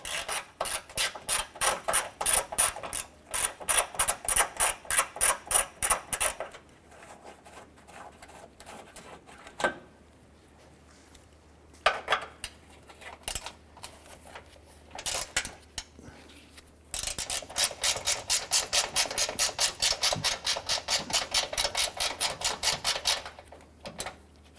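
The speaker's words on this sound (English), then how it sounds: "Loosen and remove these bolts." A ratchet clicks rapidly and steadily close by as 8mm grille bolts are loosened on a Honda Pilot, running in two long bursts with a quieter pause of handling noises between them.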